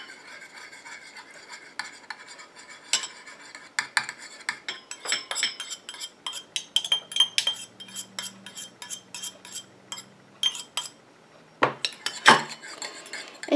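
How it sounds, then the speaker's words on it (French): A whisk scrapes and clinks against a bowl while an aqueous phase is blended into an oil phase for homemade hand cream. The close, irregular rasping strokes build denser and louder toward the end, with no talking. "Et je continue à mélanger comme ça jusqu'à ce que mon émulsion épaississe et refroidisse."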